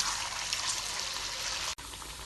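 Flattened wheat flour Alavangu dough fries in hot oil with a continuous bright sizzle and hiss, close by, briefly cutting out near the end.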